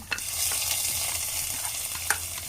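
Kerala-style fish curry poured into a hot pan crackles in a continuous close sizzle, broken by a couple of brief clinks, with no voices.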